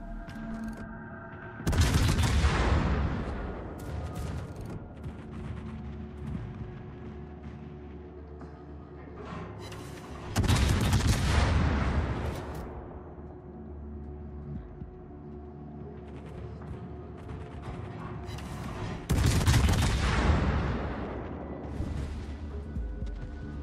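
Naval gunfire in the World of Warships video game: three heavy, booming salvos spaced several seconds apart, each a loud crack followed by a long rumbling decay.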